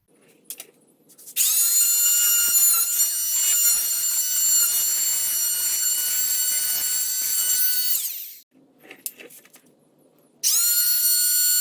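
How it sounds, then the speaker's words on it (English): A whining power tool cuts sheetrock in a wall, running in two loud high-pitched bursts separated by a short pause, close by with no speech. "I'm going to go start cutting up the sheetrock in the wall"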